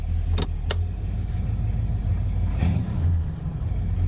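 A 1972 Oldsmobile Cutlass with a 455 big block V8 runs close by, a steady low throbbing idle broken by a couple of sharp metallic clicks and a brief surge near the end.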